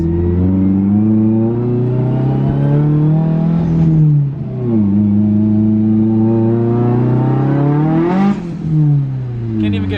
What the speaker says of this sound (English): This car is so much faster than Nicole's